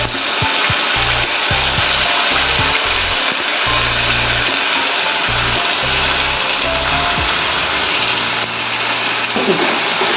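A mixer grinder blends onion, ginger, garlic and tomato into a paste for a Bengali katla fish curry, giving a loud, continuous motor whir with a pulsing, grinding low end that lasts the whole time.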